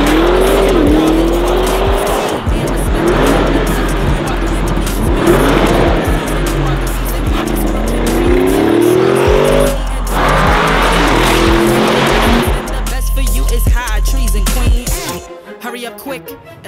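An Audi RSQ8 SUV with raised engine power revs hard through rising and falling passes, loud and close, with tyre squeal mixed in and no talk until the sound drops away near the end.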